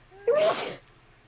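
A single sharp sneeze bursts out close by, a short explosive blast that fades quickly, with faint voices around it during a tabletop role-playing game session.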